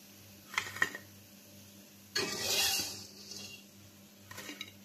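Dishes and cutlery clink a few times. A longer scraping, rustling stretch follows as batter-fried bread is slid from a pan onto a plate, then more faint clatter.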